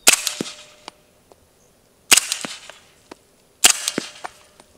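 Three suppressed .300 Blackout rifle shots, evenly spaced about one and a half seconds apart, each a sharp crack followed by brief echoing tail and small after-clicks, fairly close and loud with no talking.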